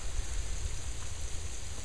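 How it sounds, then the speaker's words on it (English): Steady rain falls on a Saturday morning after light overnight snow, a continuous dense patter of drops hitting surfaces, moderately loud and unbroken throughout with no voices. "Looks like we got more rain at the moment. But we did get a little bit of white stuff through the night. It's coming down pretty good."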